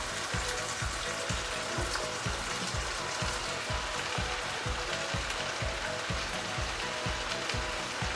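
Garlic, onions and kale cooking in broth in a pan, giving a steady, loud sizzling bubble with a faint rhythmic patter underneath throughout.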